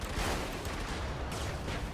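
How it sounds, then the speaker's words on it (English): A constant roar of overlapping blasts and weapon fire fills the battlefield of the mech game Brigador, heavy low booms layered under a crackling wash with no pauses. "Look at all the lovely, lovely, lovely explosions."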